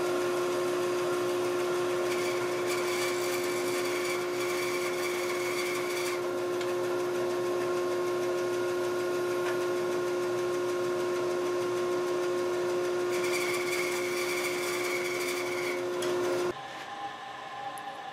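A saw fitted with a coarse 8 TPI half-inch blade cuts a wedge, a sustained steady whine with a strong held tone and two brighter passages, running close for about sixteen seconds before easing off near the end.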